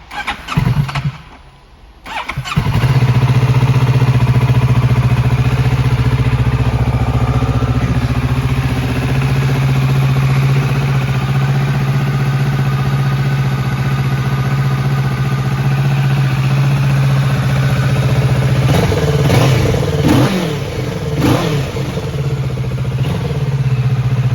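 A 2018 Kawasaki Ninja 650 engine with standard exhaust cranks and catches, then idles with a steady rumble for a long stretch before a few sharp revs near the end.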